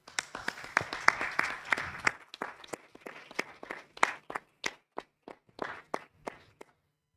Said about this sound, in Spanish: pido un aplauso primero para partir